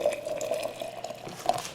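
Boiling water is poured into a bowl of light brown sugar and pure maple syrup, a close, continuous liquid splash and trickle with a few brighter drips.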